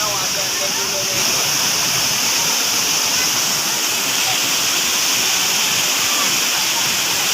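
A small outdoor waterfall gives a loud, steady rushing roar that fills the whole stretch, with faint voices under it.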